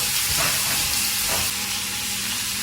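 Bacon frying in a pan gives a steady, close sizzle and hiss with faint stirring or scraping clatter early on, continuous throughout and without talk.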